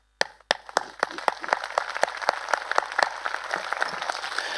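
Congregation at a church gathering claps for Jesus: a few sharp, separate claps start things off, then a crowd of hands joins in and builds into a steady, fairly close round of applause.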